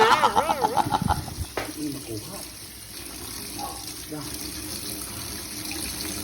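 Tap water runs into a sink as an octopus is washed, a steady splashing stream with handling noises, while a person talks over it at the start.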